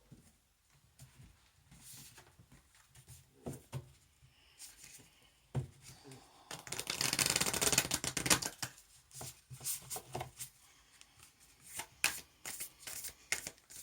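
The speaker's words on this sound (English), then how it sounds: "next we will have a card from the Starseed Oracle by Rebecca Campbell" A Starseed Oracle card deck is shuffled by hand, with quiet scattered card flicks building to a dense, loud riffling burst midway, then lighter taps and shuffles, close and without speech.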